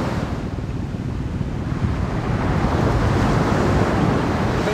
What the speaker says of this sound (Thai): ตั้งแต่เมื่อคืนก็คลื่นค่อนข้างแรงครับนอนฟังเพลินเลยครับ